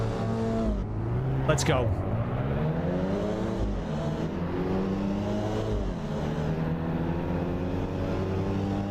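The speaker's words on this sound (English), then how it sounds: "Rev her out." Hyundai race car engine in Assetto Corsa EVO revving hard on a full grid at the race start, a sharp surging rev early on, then a steady droning idle with other cars around, under a voice.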